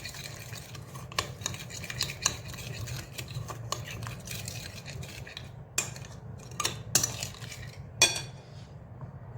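A spoon clinks and scrapes against a bowl while olive oil and a spoonful of yogurt are stirred into a marinade, giving irregular close taps and scrapes over a quiet background with no voices.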